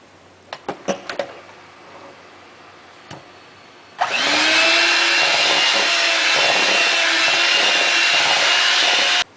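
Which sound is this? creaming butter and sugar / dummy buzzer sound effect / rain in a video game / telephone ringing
creaming butter and sugar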